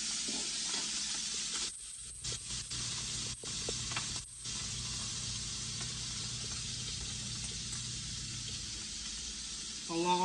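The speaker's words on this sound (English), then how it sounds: "I'm about to add my shrimp to my skillet." Shrimp sizzle in a hot skillet, a steady close hiss that briefly drops out several times, then resumes unbroken to the end.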